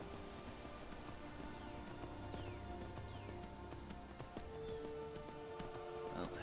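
A horse's hooves clip-clop in a steady rhythm as a rider travels up hilly switchback trails in the game Skyrim, faint and low beneath ambient game sounds.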